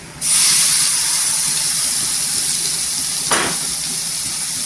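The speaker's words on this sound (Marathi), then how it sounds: "जे आपण वाटण केलेलं आहे ते टाकायचं" Ground masala paste hits hot oil and sizzles loudly and steadily, with a brief stirring scrape partway through and no talk.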